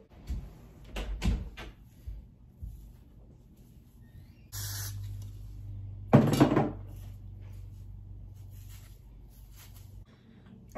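A bedroom door pulled shut, a single thud of the door closing near the middle, followed by a low sustained hum in a quiet room with light handling noises before and after.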